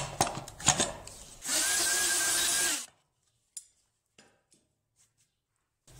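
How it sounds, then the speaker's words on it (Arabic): A power router whines steadily for about a second and a half, cutting an angled groove in a clamped wooden board, after some scraping handling noise, then cuts off, leaving near silence with a few small knocks. "نثبته على اللوح باستخدام هاته الملزمة، ونبدأ عملية الحفر، يعني النقر الأول المائل."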